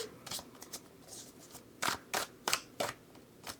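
Tarot cards are shuffled by hand, a run of crisp riffling snaps and soft slides that grow into several sharp, distinct bursts, close and alone.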